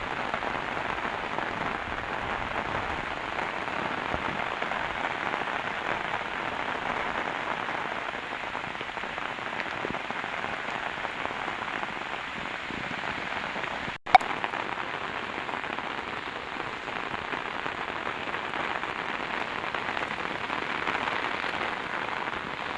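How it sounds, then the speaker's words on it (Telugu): Steady heavy rain pours down on trees, a dense, even hiss for the whole stretch, with one sharp crack partway through. "వర్షం సౌండ్ సౌండ్ అసలు ఎంత అద్భుతంగా ఉంది చూడండి ఇంకెక్కువైంది వర్షం"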